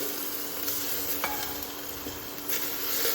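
Ginger garlic paste is stirred into golden brown onions in a pan, giving a close, steady sizzle with soft scraping strokes and a few light taps of the utensil against the pan.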